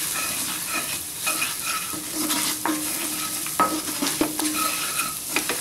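Amchur and coriander powder get stirred in a hot pan for Amritsari chole, a continuous close sizzle broken by repeated scraping strokes of a spoon and light clinks against the pan, with no voices.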